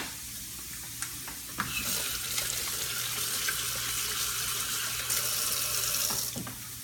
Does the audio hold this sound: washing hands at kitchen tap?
yes